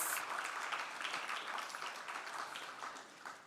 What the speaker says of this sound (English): Could you help me welcome her with a round of applause?